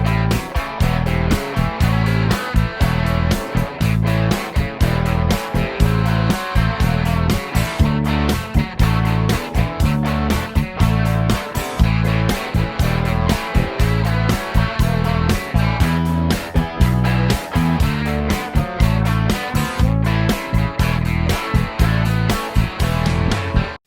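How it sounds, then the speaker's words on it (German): A bass guitar plays a blues bassline built on the root and fifth, with a steady rhythmic pattern of repeated plucked notes, loud and continuous alongside other band instruments throughout. "wir spielen den Grundton und die Quinte und suchen uns jetzt halt einen Rhythmus aus, der jetzt gut dazu passt"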